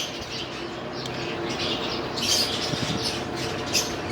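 Newly hatched chicks, eyes still closed, give a steady chorus of high peeping chirps that runs without a break, close by.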